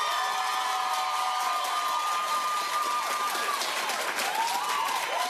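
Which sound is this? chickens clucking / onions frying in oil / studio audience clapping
studio audience clapping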